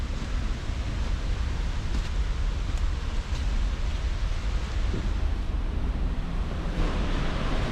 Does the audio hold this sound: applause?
no